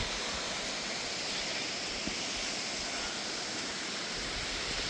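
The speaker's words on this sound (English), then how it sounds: "Look at how pretty the creek is running." A creek swollen after massive rainfall rushes in a constant, dense roar, close and unbroken from start to finish with no voices.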